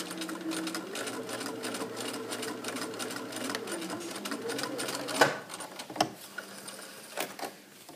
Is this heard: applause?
no